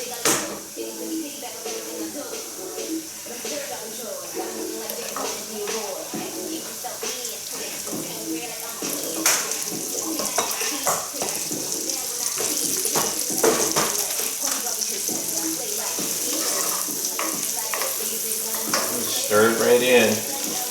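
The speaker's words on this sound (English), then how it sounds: "And now I'll just go ahead and start adding my rutabaga." Rutabaga pieces sizzle and fry steadily in a pan while being stirred, with the crackle holding at a constant level and scraping stir noises mixed in.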